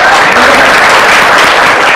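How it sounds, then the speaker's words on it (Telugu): A studio audience claps and applauds loudly and steadily on a Telugu television game show, a dense unbroken burst of clapping that fills the whole moment. "ఒకసారి గట్టిగా క్లాప్స్ అమ్మా అందరూ"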